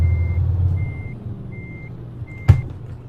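A heavy truck in Euro Truck Simulator 2 sounds a steady reversing beep, four evenly spaced tones over a low diesel idle, with one sharp hiss or clunk near the end.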